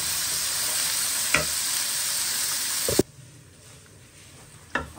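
Onions frying in a pan for biryani, a steady loud sizzle with brief stirring clatters, then the sizzle drops sharply quieter partway through.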